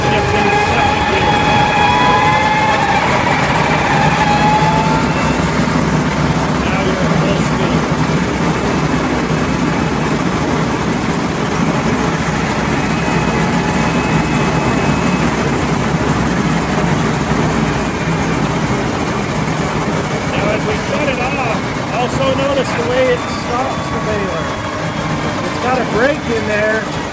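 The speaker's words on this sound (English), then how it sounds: "You have to rev the engine up to 850 PTL RPMs, then it starts to engage." A New Holland BigBaler 340 runs loud and steady with a deep engine drone and mechanical rumble as the engine is revved and the PTO engages, a faint rising whine near the start, and a voice talking over the machinery throughout.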